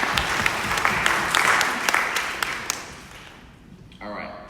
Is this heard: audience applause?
yes